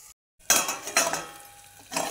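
Green tomato chutney being stirred in a pan, with metal utensil scrapes and clinks against the pan in a few short bursts, close and moderately loud over a faint sizzle, after a brief silence.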